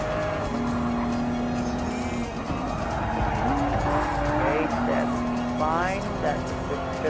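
A Toyota GR Supra race car in Gran Turismo Sport at the Nurburgring, its engine droning steadily with rising and falling revs and tire squeal in the corners, while a voice talks over it.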